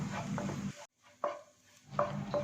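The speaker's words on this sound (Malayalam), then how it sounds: "വെറുതെ ഉപ്പ് മാത്രം ചേർത്തിട്ടാണ് കൊത്തിപ്പൊരിച്ചെടുക്കുന്നത് കേട്ടോ." Prawns being stir-fried and chopped in a pan with just salt, a few short scraping, clattering strokes of a utensil against the pan with a soft sizzle underneath, broken by a brief silent gap.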